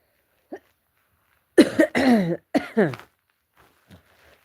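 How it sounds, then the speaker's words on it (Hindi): A few close, harsh coughs in quick succession, preceded by a small throat sound, then quiet with faint breaths. "खांसी तो परेशान कर दे"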